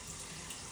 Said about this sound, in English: Let's wash our hands. All right, nice warm water.